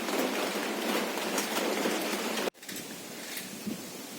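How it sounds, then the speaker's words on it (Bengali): Light rain patters steadily during Cyclone Remal in a village, a soft even hiss of drops falling outdoors, briefly interrupted, with no talking. "টিপটিপ করে বৃষ্টি আবার শুরু হয়ে গেল"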